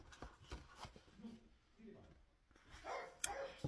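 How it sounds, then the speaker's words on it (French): A dog barks a few times in short bursts, fairly faint and partly masked by background talk and room noise. "Et c'est donc le chien qui aboie"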